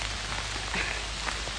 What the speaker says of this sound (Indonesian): Nih, hujannya hujan hakel ya.